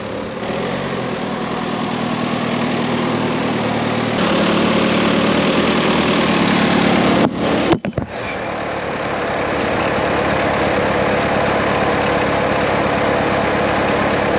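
A 2008 Volkswagen Caddy Maxi van with a blown turbo idles steadily, a constant low engine drone with a brief dropout partway through before settling back into the same even hum.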